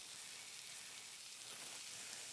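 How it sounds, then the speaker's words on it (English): Patties wrapped in plastic hit a hot frying pan and sizzle steadily, a close, dense hiss holding even throughout with no voices. "Oh, nice sizzle."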